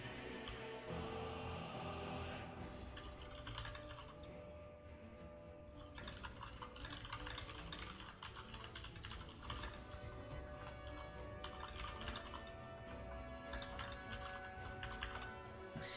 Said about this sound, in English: Just a second, I'm typing.